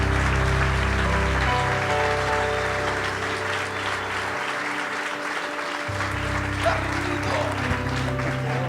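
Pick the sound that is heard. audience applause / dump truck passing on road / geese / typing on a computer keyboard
audience applause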